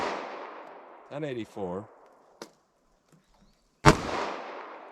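A single sharp, loud .40 S&W pistol shot with Speer Gold Dot or Federal HST ammunition cracks and rings off, and the fading tail of an earlier shot opens the clip. Someone says a short number in between.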